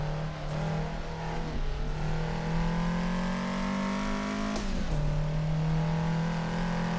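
A Toyota AE86 driven hard on a touge mountain road, its engine droning steadily at high revs heard from inside the car, with pitch dropping briefly as it shifts and then holding again.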